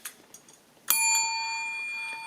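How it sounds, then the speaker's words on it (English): A small hand bell is struck once, its bright ringing tone sustaining and slowly decaying after a few soft taps and rustles, close and fairly quiet, with no one talking. "we're going to have a little bell handy"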